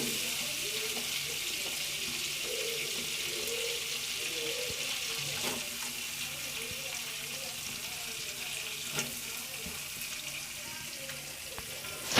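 Onions added to butter in a pan give a steady, even sizzle that holds for the whole stretch, moderately loud, with faint background sounds and a brief knock at the very end.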